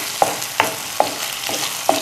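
Small pieces of boneless chicken thigh frying in a pan, a steady sizzle under five sharp scraping stirs spaced roughly every half second, close and fairly loud.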